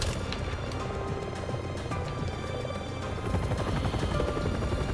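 A helicopter in the video game Resident Evil 6 churns with a steady rotor and engine drone amid a busy mix of game effects, continuous and moderately loud, briefly swelling near the end, with no talking.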